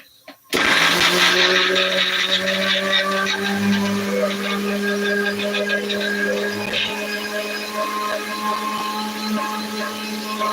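Mixer grinder blending coconut with water, a loud steady motor whir that starts abruptly and runs continuously, close by.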